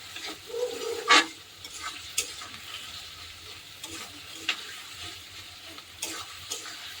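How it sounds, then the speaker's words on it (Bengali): Chopped onions fry in a pan for a meat curry, a steady sizzling hiss with scraping stir strokes and a few louder knocks from a spoon against the pan, close and moderately loud, with no talk. "পেঁয়াজটা ভাজা ভাজা হয়ে গেলে তারপরে মাংসটা দেব"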